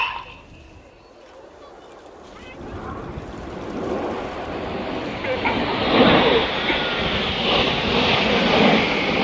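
Red Arrows jet formation flying over the East Fortune Airshow, a distant roar building into a loud, sustained rumble as the aircraft pass, with a commentator speaking over it.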